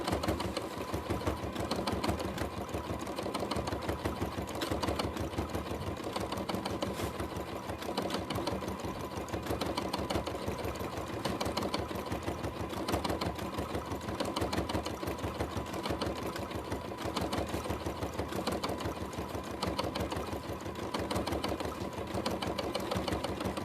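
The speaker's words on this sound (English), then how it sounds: "You hear my machine, every time I go backwards it goes dunk dunk dunk." A sewing machine stitches a horse collage quilt, running in a steady, fast continuous drone with dense rapid needle strokes throughout, close and even in level with no pauses.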